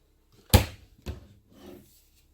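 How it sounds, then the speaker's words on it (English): A cabinet door in a Forest River Riverstone Legacy fifth-wheel RV swings shut onto its magnetic holder, giving a sharp close knock followed by a softer second tap and a faint rattle, quiet and near. "Nice magnetic door holders also."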